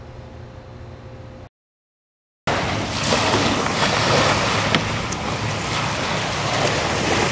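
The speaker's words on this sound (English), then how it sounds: "right now we're by the river. And it's a little bit rough out today." Rough river water with waves washes and churns beside the shore, heard close under strong wind buffeting the microphone, following a short stretch of quieter sound and a brief gap.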